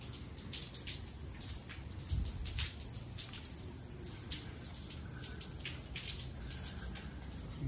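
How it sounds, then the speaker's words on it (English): Soft, steady rain with scattered drips and patters close by, quiet and continuous, no voices. "So glad for all this rain."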